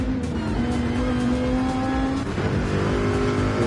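GR3 race cars racing in Gran Turismo 7, a steady, loud blend of several engines droning and whining at high revs, continuous with no talk.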